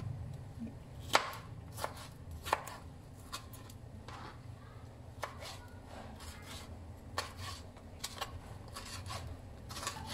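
A knife chops eggplant and onion into small squares on a board, giving irregular close taps and cuts over low background hum, no talking.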